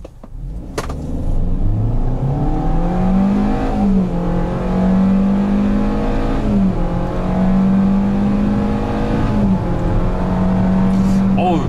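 Hyundai Venue with an MPI engine and CVT transmission accelerating hard in a 0-100 km/h run, heard from inside as a loud, sustained engine drone that rises in pitch, dips, and climbs again several times.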